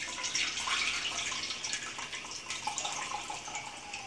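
Curdled milk poured into a strainer for homemade herb-salted cheese gives a steady, close splashing wash of liquid with no break or talk.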